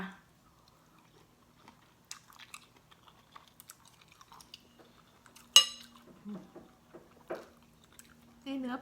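Someone eats a glass noodle salad with fish balls and crab claws, with soft close chewing, brief crunches and light clinks of cutlery against a dish between quiet pauses, and some speech.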